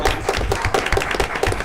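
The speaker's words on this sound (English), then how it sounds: "Round of applause." Short round of applause at a county board of commissioners meeting, a few people clapping in an uneven patter for a moment.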